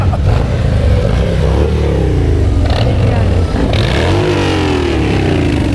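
A Harley motorcycle engine revs and roars past close by, its pitch rising then sliding down as it moves away, with traffic noise around it.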